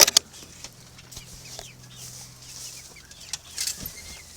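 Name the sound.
young roosters crowing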